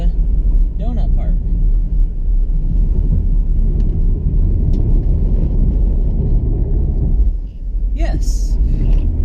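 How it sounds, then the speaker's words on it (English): A 2016 Chevrolet Camaro SS does a donut, with a continuous deep engine rumble close by, a few short tire squeals, and a brief dip in the engine noise near the end. "Now here for the donut part."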